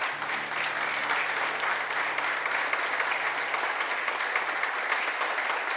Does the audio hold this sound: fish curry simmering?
no